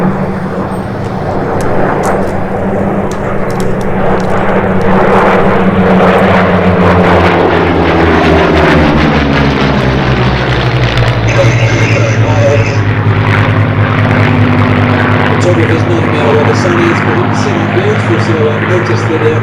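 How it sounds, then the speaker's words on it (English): Several Spitfire propeller fighters fly past at an airshow at Sywell, a loud, sustained engine drone with shifting pitch as the formation passes close by, with a commentator talking over it throughout. "Notice 3 Spitfires have gone behind us, 4 Spitfires have gone behind us."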